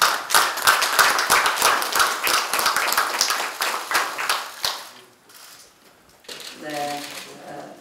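Party members at a committee meeting clap in a short, vigorous round of applause, with sharp individual claps for about five seconds before a voice begins speaking.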